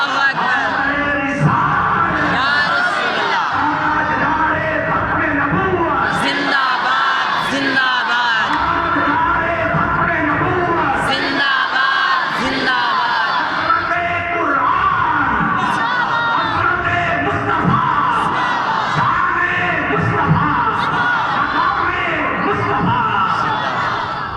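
A crowd at a madrasa turban-tying ceremony roars back in unison to a Naara-e-Takbeer slogan, loud massed voices chanting and yelling in repeated bursts across the whole stretch.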